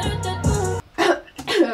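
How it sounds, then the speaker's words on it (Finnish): A person coughs in a recording studio, a few harsh bursts separated by short pauses, close and fairly loud. "Mulla tuli yskä vaan."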